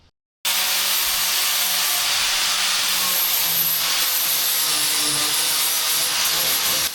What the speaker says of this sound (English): they're sanding down the soffit now